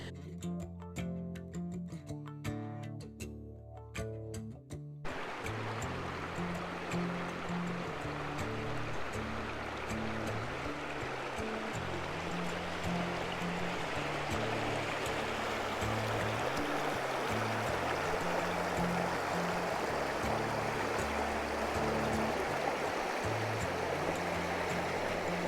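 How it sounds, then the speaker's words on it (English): A swollen river pumps fast after heavy rain, a steady loud roar of rushing water filling the whole stretch, with a few seconds of piano-like music at the start. "We have had a ton of rain through this area and this river's pumping."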